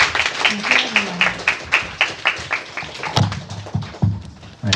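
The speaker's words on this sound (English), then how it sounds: "All right, let's give them a round of applause" Audience applause at a Hacker Dojo hackathon, a small room's worth of rhythmic claps that swell and thin out, with a low voice murmuring underneath toward the end.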